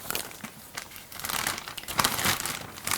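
Instant ramen noodle blocks are pushed into a plastic zipper bag, giving close, loud crinkling and rustling of plastic in irregular bursts.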